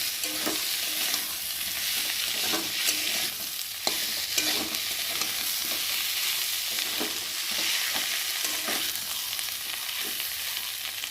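Masala stir-fried with potato, eggplant, fried prawns and cumin and ginger paste, a loud continuous sizzle broken by repeated scraping strokes of a spatula in the pan.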